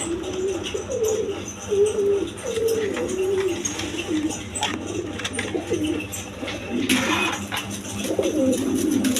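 Pigeons of various breeds at a wholesale pigeon market, cooing repeatedly in low, rolling phrases close by, with a brief rustle and faint background noise between calls.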